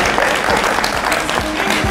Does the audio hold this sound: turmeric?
no